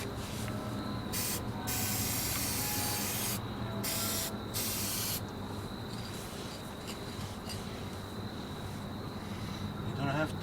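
Aerosol spray hissing steadily onto rusty metal for cleaning, several bursts with brief pauses, close and fairly loud, with someone talking at times.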